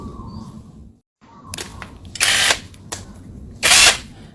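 Power tool bursts remove the nuts from a Toyota Vios radiator fan motor, with several short, loud whirring spurts separated by quieter pauses and small clicks.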